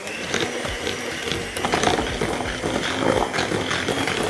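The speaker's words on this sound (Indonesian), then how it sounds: "Karena lagi capek, kita pakai mixer." An electric mixer beats banana cake batter with a steady, continuous whirring drone, loud and close, and no voices.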